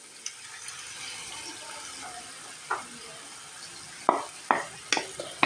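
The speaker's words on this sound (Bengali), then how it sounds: "ডিমটা ঝুরি করে নেব।" Eggs are scrambled in a pan with fried chicken, heard as a soft sizzle under a series of sharp spatula scrapes and clinks that get more frequent toward the end.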